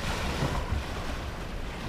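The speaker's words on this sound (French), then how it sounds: "il y a des séries qui rentrent" Sea waves surge in near a river mouth on the coast of Mauritius during a heavy downpour, a steady broad roar of surf and wind with no distinct breaks.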